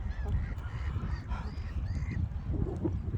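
A flock of ducks quacks and honks nearby outdoors, a steady overlapping chorus of nasal calls with no voices heard.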